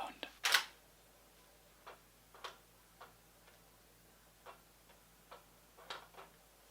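Nikon D850 DSLR shutter firing in a series of separate crisp clicks, spaced about a second apart, fairly quiet, with one louder burst near the start.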